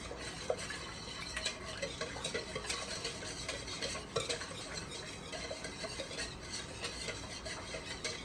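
Bread dough ingredients are combined in a mixing bowl with a steady, dense scraping and rubbing sound. Occasional light knocks of a utensil against the bowl come through, with no speech.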